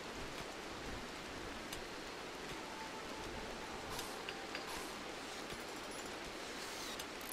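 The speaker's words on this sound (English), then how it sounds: "Oh, it's raining." Steady rain falls in the video game Rimworld, a soft continuous hiss with faint scattered drop ticks and no voices.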